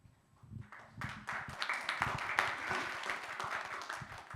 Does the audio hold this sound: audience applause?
yes